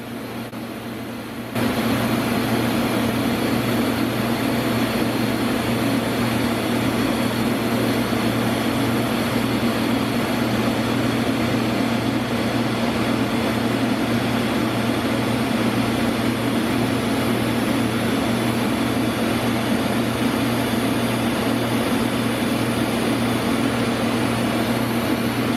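TIG welding joins a mild steel flange to a stainless turbo collector at about 170 to 175 amps under foot pedal control, giving a continuous, even electric hum and buzz that holds steady for the whole stretch.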